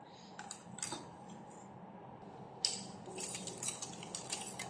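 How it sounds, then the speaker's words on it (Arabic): A utensil stirs chocolate melting into cream in a pot, giving scattered metallic clinks and scrapes, some in quick bursts, over a low steady background. "غنذوب هاد الشوكولاط في الكريمه مع نبقى نحرك حتى تذوب ليا"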